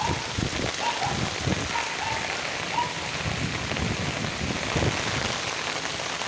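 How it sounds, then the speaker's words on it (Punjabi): Heavy rain pouring down in Chari village, Punjab, with flooded streets and overflowing ponds, a steady, loud hiss of drops drumming on surfaces that stays even and continuous, with no voices. "ਅੱਜ ਮੀਂਹ ਫੁੱਲ ਪੈ ਰਿਹਾ ਜੀ"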